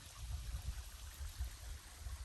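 Quiet, steady trickle of spring water at Dripping Springs in the Organ Mountains, a soft continuous flow heard faintly from nearby with low rumbling wash and no talk.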